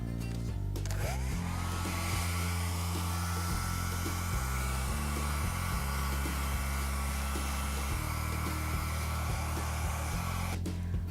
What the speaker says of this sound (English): A heat source, such as a hairdryer or heat gun, can help mold the vinyl